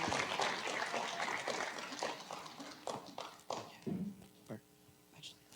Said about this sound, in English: Last round of applause for our middle school.